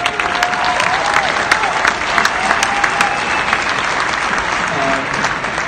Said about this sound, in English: that's what deserves a round of applause.